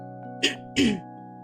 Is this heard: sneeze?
yes